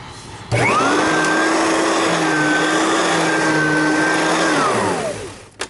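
A Riccar R10S / Simplicity S10S vacuum cleaner, running after a fan repair, starts with a sudden loud roar and holds a steady, powerful whine with a tonal hum for several seconds before winding down at the end.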